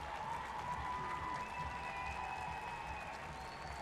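Stadium crowd at an NWSL women's football match, Racing Louisville against OL Reign, applauding an injured player, a steady, distant wash of clapping and crowd noise with faint whistles or tones running through it.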